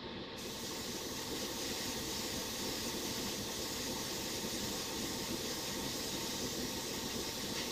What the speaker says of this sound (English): Sorry for all the noise, that's all my compressors and everything.